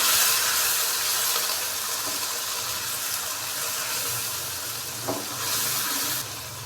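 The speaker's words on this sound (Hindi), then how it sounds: "और यहाँ पे हम मसाले को अच्छे से भून लेंगे ताकि मसालों की अच्छे से भुनाई हो जाए" Spice paste with finely chopped tomato and a little water fries in a pan for aloo wadiyan salan, giving a continuous soft sizzle with faint stirring scrapes and no talk.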